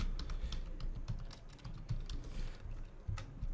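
Keys clatter on a computer keyboard as a short message is typed, a steady run of close, crisp clicks with no talking.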